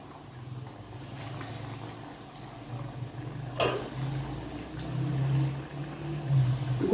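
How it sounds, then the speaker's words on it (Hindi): Breaded chicken nuggets fry in hot oil over medium heat, a soft, steady bubbling sizzle that swells slightly louder toward the end. "अब मैं इसको फ्राई करूँगी"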